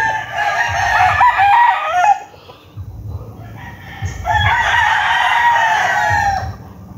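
Young white stags crow in a farmyard, two long hoarse cock-a-doodle-doo calls separated by a short pause, near and loud with faint clucking underneath.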